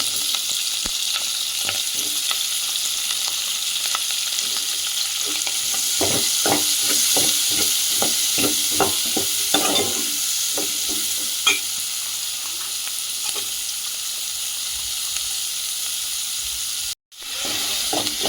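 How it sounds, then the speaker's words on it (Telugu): Onions and green chillies fry in a pan for a raw mango and dried fish curry, a steady close sizzle with frequent clicks and scrapes from stirring and a brief dropout near the end. "ఇప్పుడు ఉల్లిపాయలు బ్రౌన్ కలర్ వచ్చేదాక వేగనిద్దాం"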